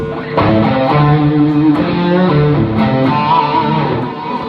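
A sustained, heavily processed electric guitar through its normal pickup rings out in full chords, thick and steady with a gritty distorted edge, played alone with no talking.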